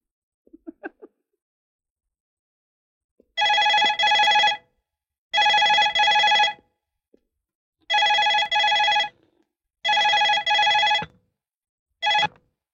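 A telephone bell rings in five loud, evenly spaced bursts after a few faint clicks, the last ring cut short, with no voices.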